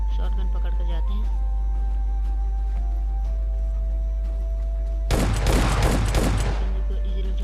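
S12 shotgun fire in a battle-royale-style shooter game cracks out in a loud burst of rapid blasts after a stretch of quiet game tones and a low hum.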